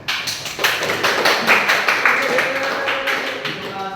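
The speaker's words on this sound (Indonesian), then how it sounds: "Tepuk tangan untuk kelompok satu." Classmates applaud a student group in a school classroom, a steady close patter of many hands clapping together for about four seconds with no talk over it.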